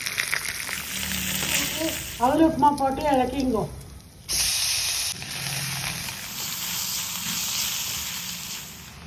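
Roasted peanuts, grated ginger, curry leaves and finely chopped green chilies sizzle in oil for cucumber poha upma, giving a steady frying hiss under a brief spoken instruction, then continuing alone.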